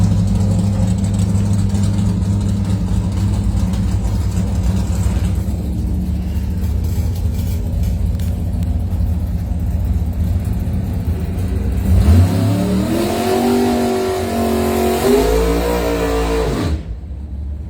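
Drag race cars idle with a steady low rumble at the start line of a Pro Systems bracket final, then one engine revs sharply in rising and falling bursts before cutting off near the end.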